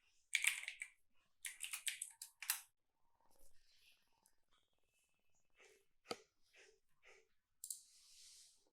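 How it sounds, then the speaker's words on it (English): Bursts of typing on a computer keyboard, clustered key clicks in short runs separated by pauses, close and fairly quiet with no talking. "Let me explicitly type HTTPS."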